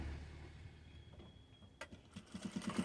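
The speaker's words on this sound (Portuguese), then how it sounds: "Agora nós vai passar uma costurinha na diagonal aqui, em uma orelhinha e na outra." A sewing machine stitches a diagonal seam across a plush toy ear, starting quietly and then breaking into a quick run of rhythmic mechanical clatter near the end.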